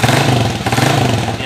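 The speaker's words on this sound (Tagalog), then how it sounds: "Ang naririnig nyo na lang na maingay at malutong itong tambutso niya." Loud, raspy motorcycle exhaust with its silencer removed, idling and revving with a crackly, unmuffled rattle, close by and steady throughout.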